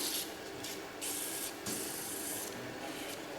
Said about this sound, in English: It's a little sharp, so I'm just gonna, with the sandpaper, just gently hit that